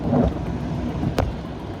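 Steady rain and a thunder rumble heard from inside a car driving on a highway during a driving lesson, a continuous wash of rain with a sharp crack of thunder near the middle.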